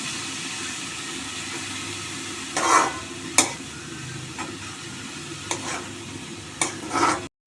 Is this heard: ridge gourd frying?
yes